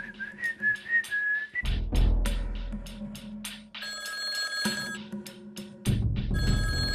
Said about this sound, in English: don't answer, don't answer that phone